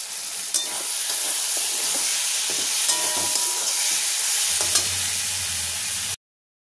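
Green chillies frying in hot oil, a steady loud sizzle and hiss running throughout with a few sharp crackles and spatters and a low stirring rumble near the end, no voices.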